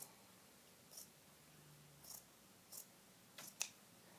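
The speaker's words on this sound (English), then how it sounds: "we're going to cut out" Scissors cutting red fabric for a doll lounge chair, five or so quiet separate snips spread over a few seconds, close up in a hushed room.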